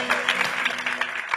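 A brief burst of crowd applause at a church sermon, steady dense clapping from many hands at moderate loudness.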